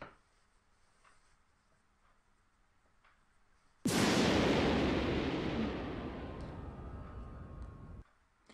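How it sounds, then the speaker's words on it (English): After a few quiet seconds, the Dark Void of Space attack in the Yu-Gi-Oh game strikes with a sudden loud explosive blast that roars on for about four seconds, slowly fading, then cuts off abruptly. "Attack evil Neos with Dark Void of Space!"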